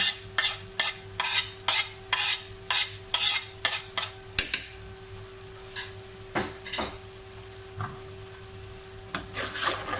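A spoon stirs red chili, salt and garam masala into chicken biryani in a pot. Rhythmic scraping strokes, about a dozen in quick succession, are followed by slower scattered scrapes, close and clear, with no voice present.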